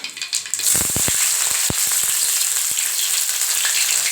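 Onions, crushed garlic, three green chillies and a sprig of curry leaves hit hot oil for a fish-head and raw-mango fish curry, with a few sharp pops and crackles first, then a steady, close sizzle.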